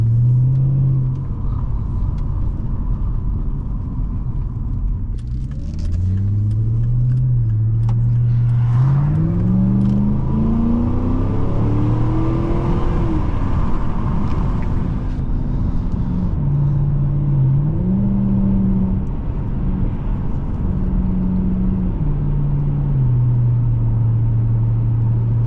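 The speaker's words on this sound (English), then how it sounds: "Whoever set up this exhaust knew what they were doing." A 2010 Volvo S80 V8 AWD on a test drive, its tuned exhaust revving up and down through rising and falling engine pitch, loud and close from inside the car, with no talking.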